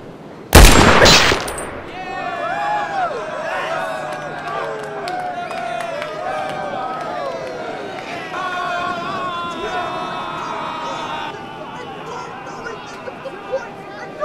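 One loud, sharp gunshot burst opens a toy soldier audio drama, followed by a long stretch of overlapping voices and tonal background sound.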